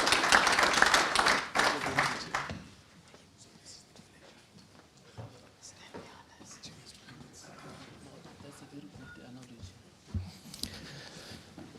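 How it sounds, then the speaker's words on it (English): Audience applause at a closing session of an agricultural baseline conference, a dense burst of clapping for about two and a half seconds that then fades to quiet room noise with faint scattered sounds. "So let's clap our hands"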